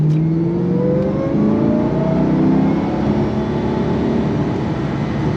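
A 2005 Ford GT supercar engine revs steadily and loudly up close, its rising tone holding strong throughout with no talking.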